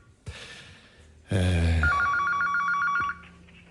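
A telephone rings for an incoming call during an Italian radio show, a bright repeating ring with short pulses, loud and up close, following a brief noise and a gasp-like sound.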